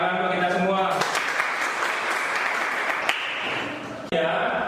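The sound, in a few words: classroom applause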